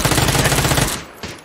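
Loud, rapid automatic gunfire from a video game rattles in a dense burst for most of a second, then cuts off, followed by a single fainter shot, with no voices over it.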